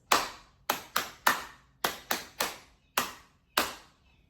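Hand claps for ear training in 4/4 time, nine sharp dry claps close to the mic in an uneven rhythmic pattern, each ringing briefly into silence, with no talk.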